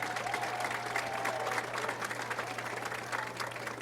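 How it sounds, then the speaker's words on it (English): Crowd applause for senior football players at a high school football game, a steady, dense wash of clapping from a sizable crowd, heard at a distance without speech. "Let's give all our senior football players a big round of applause."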